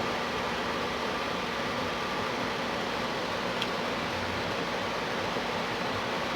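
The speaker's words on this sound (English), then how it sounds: "Got the air conditioner on," Household air conditioner and electric fans running upstairs, a steady broadband hum and whoosh that stays even and moderately loud for the whole stretch, with no voices over it.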